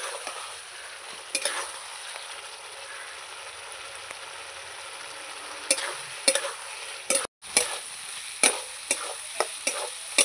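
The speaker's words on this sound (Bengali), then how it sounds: "মশলাটা একটু কিছুক্ষণ ধরে সময় নিয়ে একটু কষাবো" A spice masala is fried down in a pan with cooked potatoes. A low steady sizzle runs under repeated sharp spatula scrapes and knocks that get busier toward the end, with no voices.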